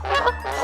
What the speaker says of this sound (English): G, G, goose.